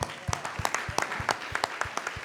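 An audience at a panel discussion for a Black Panther documentary claps steadily, the individual hand claps distinct and fairly faint, with no talking over them.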